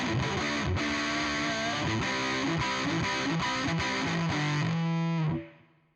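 An electric guitar runs through a distortion pedal model in Bias FX, playing a loud, heavily saturated riff that ends on a sustained chord fading out.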